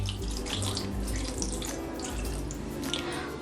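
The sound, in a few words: pouring cold water over homemade paneer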